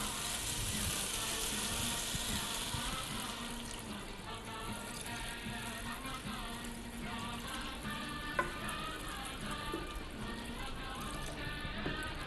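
Water poured into a hot cooking pan for a potato dish, producing a steady, loud sizzle and bubbling that continues throughout with faint clatter.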